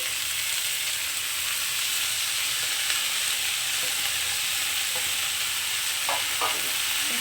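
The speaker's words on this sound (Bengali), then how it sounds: "এখন আমি যে শাকটা মেথি শাকটা কেটে রেখেছি তো সেই শাকটাকে দিয়ে দিচ্ছি" Chopped fenugreek greens frying in a pan for a potato and eggplant dish, a steady close sizzle and hiss with stirring scrapes and a few clinks near the end, no talking.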